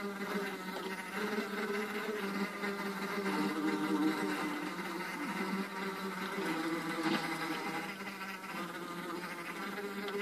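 Steady insect-like buzzing of a bee creature from the Mo Creatures mod in the Minecraft video game, droning continuously throughout at moderate level, with a faint background tone and no talk.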